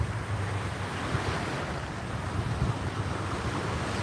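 Ocean waves wash onto a shore in a continuous broad roar with steady surf hiss and some wind rumble on the microphone, no voices.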